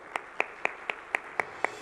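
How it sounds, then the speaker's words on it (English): Audience at the Saudi Capital Market Forum 2024 conference clapping in an even, steady rhythm of about four sharp claps per second, close and alone, with no voices. "a big round of applause"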